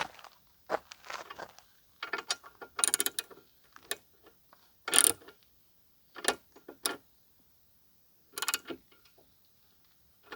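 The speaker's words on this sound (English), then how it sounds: "I'm just going through and tightening up these on the side." Bolts being tightened on a motorcycle rear rack for a T700, bursts of ratcheting clicks and metallic rattles separated by silent pauses, close up and without talking.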